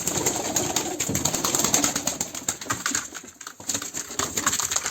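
Pigeons in a loft, including young birds, give a busy mix of soft cooing, scratching and fluttering throughout, close by and steady, with no one talking.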